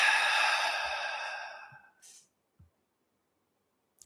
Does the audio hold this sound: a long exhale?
yes